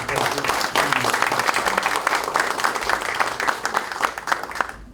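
Audience applause for the mayor of Samcheok at a Democratic Party budget policy meeting in Gangwon Province, a dense steady clapping that holds for the full stretch at moderate loudness.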